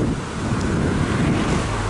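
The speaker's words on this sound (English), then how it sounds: "But there's the river at the moment," A river flows beneath a bridge on a tourist walk, a steady broadband rush of water with wind buffeting the microphone, loud and continuous throughout.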